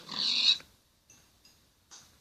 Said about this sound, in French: Un cochon.